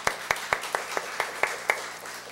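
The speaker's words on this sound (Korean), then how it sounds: "다시 한번 격려와 박수 한번 할까요?" A church congregation claps for a small choir during a Sunday worship service, a sparse, rhythmic series of about eight distinct hand claps spaced evenly, moderately near and fairly quiet.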